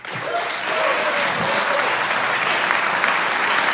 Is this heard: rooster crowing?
no